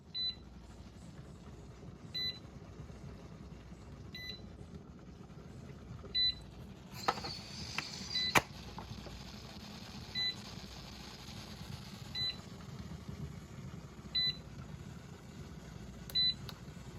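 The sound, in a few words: pressure canner beeping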